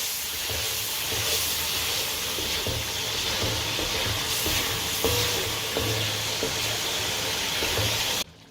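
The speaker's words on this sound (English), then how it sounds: "Give a nice good mix to the sauce to let it nicely cook." Mee goreng mamak sauce cooks in a pan, giving a continuous loud sizzle and steamy hiss with faint scraping from stirring, heard close up, before cutting off abruptly at the end.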